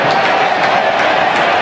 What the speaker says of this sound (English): the applause from the Port fans